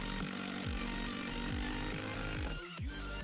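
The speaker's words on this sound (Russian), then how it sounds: "Загоняет саморез как в масло" A brushless cordless screwdriver with three speed settings and 200 N·m of torque drives self-tapping screws into boards on a sauna or house build, repeatedly whirring up and dropping in pitch as each screw seats, with no talk.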